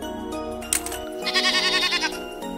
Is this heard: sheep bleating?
yes